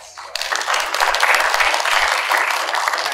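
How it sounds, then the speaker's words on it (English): Steady, dense applause from an audience at an honor society induction ceremony, starting abruptly and sustained at full strength for a few seconds with no talking over it. "let's give them a round of applause as well"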